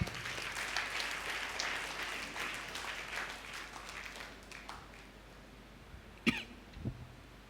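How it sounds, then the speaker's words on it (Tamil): Congregation applauding during a Sunday church service, a fairly faint wash of clapping that fades out, followed by a couple of sharp coughs near the end. "கைத்தட்டுங்க அவர் கிருபைக்காக."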